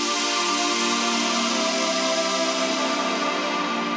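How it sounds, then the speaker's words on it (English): Stacked, free-running sawtooth oscillators on a synthesizer form a bright, thick super saw chord that sustains evenly and loudly for the whole stretch without talk. "just amazing super saw sounds like this"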